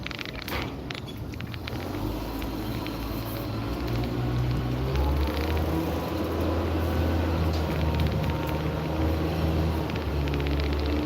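A boat engine tied up at a dock runs under light throttle, a steady low rumble that swells a little partway through and holds, with water and mechanical noise around it.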